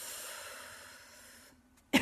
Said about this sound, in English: I do cough when I'm clearing energy for